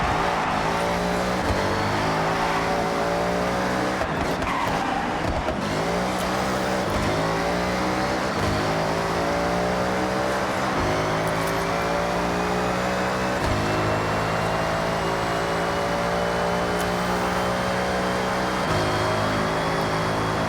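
A race car laps a custom track in the video game Forza Horizon 6, its engine roaring and climbing through repeated gear shifts, with tires squealing through corners and a loud, continuous drone throughout.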